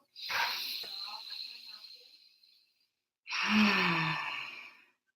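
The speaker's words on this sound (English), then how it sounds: "Let's breathe. Take a deep breath." A slow, deep breath drawn in and then released after a short pause, each a long airy rush, close and alone.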